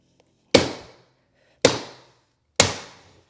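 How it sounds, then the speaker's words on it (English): A staple gun fires three sharp, loud, evenly spaced shots, each with a short decay, while fixing a stair runner into a hardwood landing, with no talk. "I'm just gonna get those staples in there."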